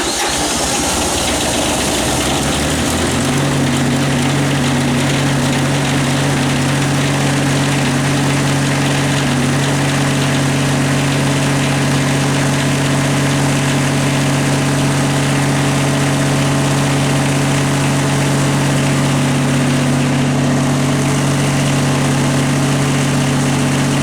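Kubota diesel generator engine running at a steady, loud idle, a constant low drone with mild vibration and no talking.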